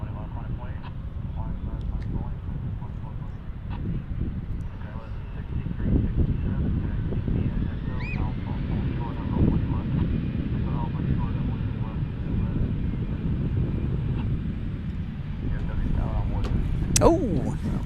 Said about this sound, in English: It's the TWA American 737-800.